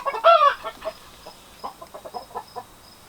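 A hen in a greenhouse gives her egg song after laying, a loud opening squawk followed by a rhythmic series of shorter clucks, close by with no talking.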